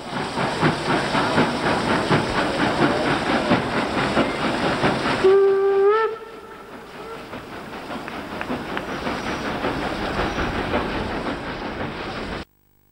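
A 1938-built German Class 02 Pacific steam locomotive, number 201, chuffs loudly with rapid rhythmic exhaust beats and hiss. Midway it gives a short rising whistle, then the chuffing resumes steadily and cuts off abruptly at the end.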